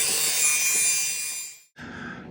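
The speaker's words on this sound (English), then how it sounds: "I'm going to use the Dremel with an abrasive white wheel to just kind of clean this up a little bit." A Dremel rotary tool fitted with a white abrasive wheel grinds against silver while a sapphire pendulum pendant is being cleaned up, giving a steady bright whirring rasp for about a second and a half, a brief gap, then a second pass.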